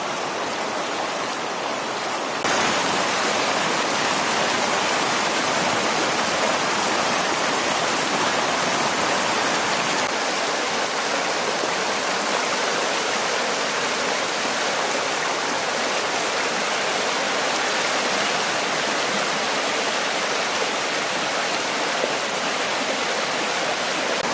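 Spring high water, swollen by heavy snowpack, rushes through a breached beaver dam on the West Fork: a loud, steady roar of churning water that continues unbroken throughout, with no voices.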